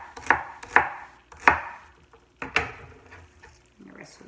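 Celery is chopped on a cutting board with four sharp, evenly spaced knife strikes, close and loud, and a brief quiet stretch follows.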